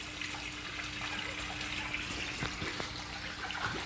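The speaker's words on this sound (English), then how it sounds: "But the pool filter's running." A pool filter runs beside a frozen pond, giving a steady, even rush of flowing water that continues without a break, with a faint low hum beneath it.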